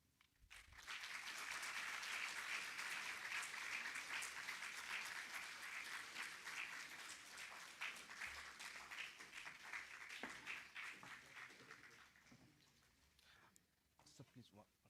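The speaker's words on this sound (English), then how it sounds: "Clap." Audience applause rises quickly and holds steady at a medical conference felicitation ceremony, many hands clapping in a dense, even wash before gradually thinning out toward the end.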